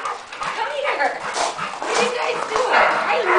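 Three dogs bark and yip in quick bursts close by, with a person talking over them throughout.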